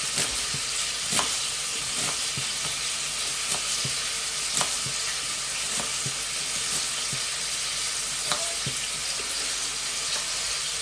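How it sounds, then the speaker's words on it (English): Onions frying in a pan of butter and squirrel fat and juices, a steady close sizzle with occasional stirring clicks and scrapes throughout, no voices. "I'll fry these onions off in that fat, butter"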